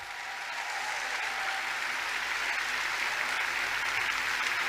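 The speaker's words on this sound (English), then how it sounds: "Give yourself a round of applause." A large audience applauds steadily at the closing ceremony of the WCIT 2019 technology conference, dense continuous clapping that swells slightly and holds loud throughout.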